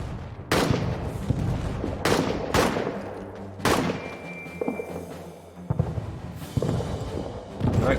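Video game firefight in First World War trenches: bursts of rifle and machine-gun fire crack out in rapid volleys with heavy thuds between them, loud and close, with no talking.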